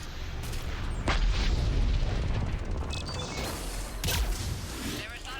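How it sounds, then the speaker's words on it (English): Missile salvo launching and exploding in the game Mass Effect 3: heavy booming blasts and rushing roars in close succession, with a voice speaking over them. "Missiles away."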